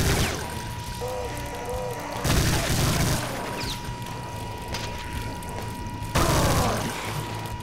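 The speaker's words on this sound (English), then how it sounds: "Another grenade. Sweet." Grenades explode in Brutal Doom V20, two heavy booms with rumbling, debris-filled tails, loud and near, over a constant hum and busy game sounds.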